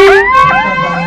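A fire engine's warning siren wails loud and close, its pitch sweeping up and down in rapid, repeated cycles.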